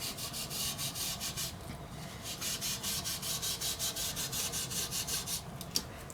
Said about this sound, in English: Rough it up with some steel wool or sandpaper.